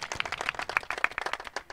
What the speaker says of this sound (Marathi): त्यांच्यासाठी सगळ्यांनी टाळ्या वाजवायच्या आहेत